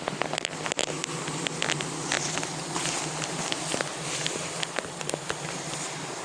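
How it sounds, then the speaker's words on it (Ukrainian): A dense, continuous buzz of a honeybee swarm close by, during transfer of the swarm from one hive frame type to another, with scattered louder passes of individual bees over a steady hum. "Бджоли знаходяться в ройовому стані не агресивні."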